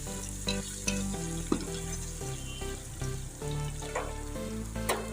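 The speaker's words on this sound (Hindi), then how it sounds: "ये माशाल्लाह कितना अच्छा फ्राई हो रहे हैं सारे" Black partridge frying in a pan for a roast, a steady close sizzle with bursts of crackle and occasional stirring clinks, no voices.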